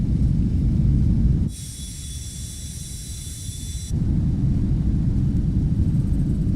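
A Boeing airliner's thrust reversers roar during landing in Microsoft Flight Simulator 2024, a loud, steady broadband rumble that shifts to a thinner whine with high tones for a couple of seconds before the heavy roar returns.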